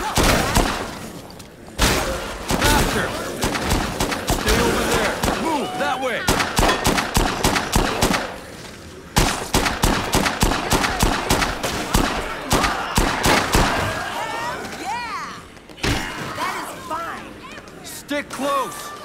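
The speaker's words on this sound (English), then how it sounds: "She keeps shooting me. Oh, okay, I just shot her back." Bursts of gunfire in the video game Dead Rising 2, rapid repeated shots in dense volleys with short pauses, loud and close, with a voice talking over parts of it.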